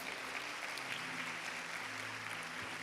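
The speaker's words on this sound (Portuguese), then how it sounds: "Pode dar uma salva de palmas forte." A church congregation applauds during a service, a faint, sustained wash of clapping lasting about three seconds without pause.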